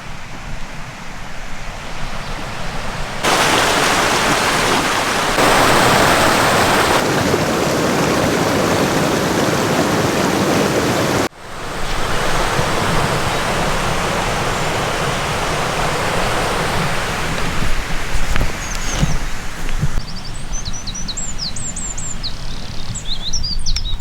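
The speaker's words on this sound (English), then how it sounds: "I'm hearing the river here, so bridge must be just up here." A river near Doe Tor Brook on Dartmoor rushes steadily and loudly close by, a continuous broadband wash of flowing water, with faint birdsong chirping over it toward the end.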